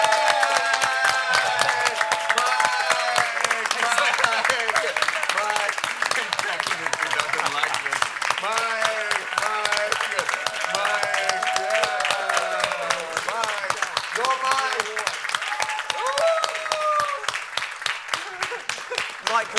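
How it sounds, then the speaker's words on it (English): Sustained audience applause fills the room, dense and steady throughout, with voices talking and cheering over it as people stand to clap for a lifetime achievement award. "Just stand up and clap."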